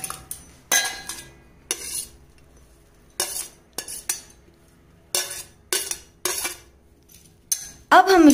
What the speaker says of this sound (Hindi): अब हम इसे अच्छे से मिक्स कर लेंगे।